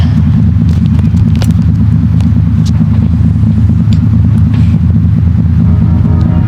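A delivery truck engine idles with a deep, steady rumble in the CarX Street game, loud and close, with faint crackles and clicks over it and no talk.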